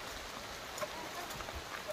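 Rain falling steadily outdoors beside a flower field, a soft constant patter with a few distinct drops, fairly faint and with no talking.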